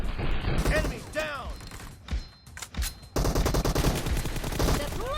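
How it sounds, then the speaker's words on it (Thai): Rapid automatic gunfire from the mobile battle-royale game PUBG Mobile, with dense bursts of shots and mechanical clatter, a brief lull in the middle, then a sustained loud volley to the end, with no voices over it. "พี่ถึงเลือกยิงตัวแรกก่อน แล้วก็พลิกสโคปไปยิงตัวหลังต่อนะ"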